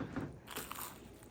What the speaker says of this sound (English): We got our garlic bread. Listen to this crunch.